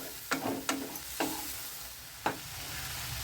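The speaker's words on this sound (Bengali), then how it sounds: "দেখো চিংড়ি মাছটা আমার মশলার সঙ্গে কষানো হয়ে যাচ্ছে" Prawns sauté with coriander-cumin powder and spices in a pan, four sharp scraping clinks of a spoon against the pan breaking a soft, steady sizzle, close by and with no talking.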